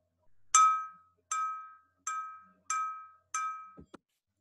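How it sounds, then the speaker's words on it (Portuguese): A metal spoon strikes glass five times at a steady pace, each hit a bright, sustained ringing clink that fades before the next, followed by a short dull knock at the end. "Tem uma colher aqui. Vamos primeiro no vidro."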